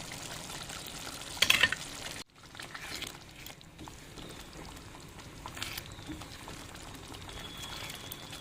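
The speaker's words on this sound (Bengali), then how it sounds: "এটা ফুটে উঠেছে। এখন এর মধ্যে আমি চিকেনের টুকরোগুলো দিয়ে দিলাম।" Chicken pieces dropped into a boiling pot for chicken bharta, a steady bubbling simmer with a brief splash and clatter early on, then continuous low boiling.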